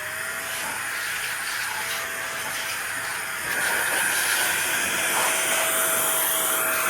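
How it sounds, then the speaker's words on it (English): Cordless air blower forcing air through a dusty Alienware Aura R14 desktop PC, a loud, steady broadband hiss that holds for the whole stretch and grows a little stronger partway through, with no talking. "The cool thing about this air blower is I've had to charge it maybe once since I've owned it"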